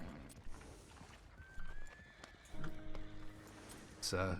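A horse whinnies near the end amid Red Dead Redemption 2 roleplay game ambience and hoof clops, with someone talking intermittently throughout.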